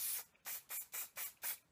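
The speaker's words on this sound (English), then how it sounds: "I'm gonna give this guy a spray." Aerosol hairspray fired in six short, quick spritzes, each a bright airy hiss with a sharp onset, evenly spaced across the stretch with brief silent gaps between them, close and clear.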